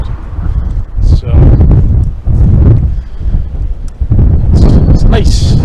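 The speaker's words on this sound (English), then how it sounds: "It's very windy, but you get some good views. It's very breezy up here." Strong wind buffets the microphone on Falkland Hill (East Lomond Hill) in Scotland, a loud continuous roar with gusty surges and brief dips, while someone talks over it.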